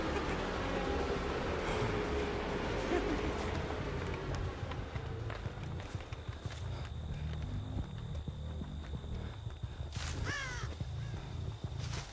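A crow caws in Dead by Daylight amid rustling and footstep-like thumps, with sharp distinct caws standing out near the end over dense game ambience.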